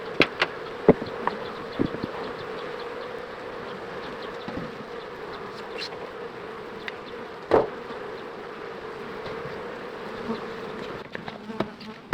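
Honeybees swarm around a beehive outdoors in a steady, dense buzzing drone, with individual bees zipping close past now and then and a few faint knocks, no voices.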